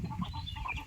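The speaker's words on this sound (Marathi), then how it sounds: "कोंबडा आहे पूर्ण ब्लॅक, त्याचं चिकन सुद्धा काळसर असतं." An all-black Aseel fighting rooster gives a short run of soft, nearby clucks and low throaty calls, fairly quiet and with no talking.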